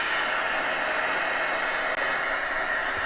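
A heat tool blows steadily to dry gel on a mixed media book cover, a constant loud hissing roar of air that runs alone without a break.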